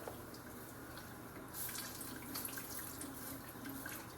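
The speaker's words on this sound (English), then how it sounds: "I'm gonna add more water." Water runs steadily into a pot while chicken pot pie filling cooks, a faint, continuous trickle that grows slightly louder partway through, with no talking.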